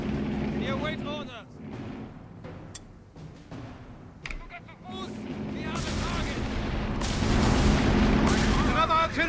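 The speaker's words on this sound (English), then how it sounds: "Another artillery strike incoming!" Heavy artillery shells explode in Company of Heroes 3, with deep booms building into a loud, sustained barrage while unit voice lines and speech sound over the battle.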